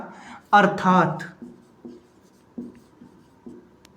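A pen scratching on paper during a physics lesson on the Oersted experiment, short strokes in an uneven rhythm after a brief spoken phrase.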